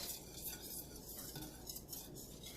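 A whisk beats sauce in a pot, rattling and scraping against the metal in a quick, repetitive rhythm that is close but fairly quiet.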